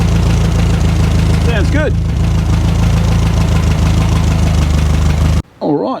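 A 1963 VW single cab engine idles off choke, a loud steady rumble running almost to the end before cutting out, with a short spoken reply over it and a brief voice after.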